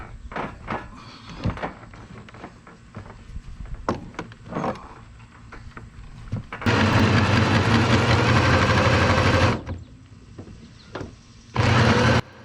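A Craftsman LT2000 lawn tractor engine runs loud and steady for about three seconds, then cuts off and restarts briefly near the end, with scattered clanks and knocks around it.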